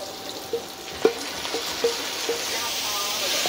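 Fatty beef slices hit a hot pan with onion and are stir-fried, giving a steady sizzle broken by a few sharp stirring and scraping clicks close up.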